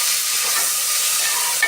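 Tomatoes and onions sautéing in a pan for chicken biryani give a steady, close hiss of frying and stirring that holds evenly throughout, with no voices.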